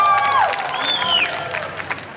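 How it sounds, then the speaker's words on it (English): A convention audience at a comic con panel applauds and cheers loudly, with shrill whistles sweeping over the steady clapping of the crowd. "round of applause for the fans"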